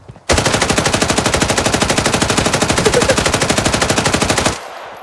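A machine gun is fired from the hip in the shooter game Arena Breakout, one long, loud, rapid, unbroken burst of evenly spaced shots that cuts off sharply, leaving a short fading tail.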